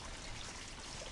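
A short stretch of canal water flowing, a continuous soft rushing wash with little variation, fairly faint and alone.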